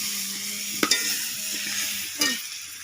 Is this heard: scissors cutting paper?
no